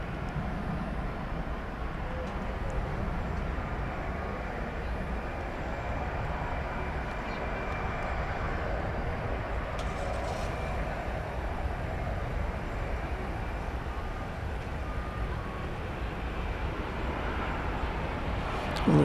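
A Boeing 787 at DFW Airport at night gives a steady, broadband engine roar, continuous and moderately loud across the whole stretch, with no clear peak or fade.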